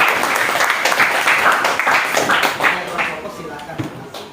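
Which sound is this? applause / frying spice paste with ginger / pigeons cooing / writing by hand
applause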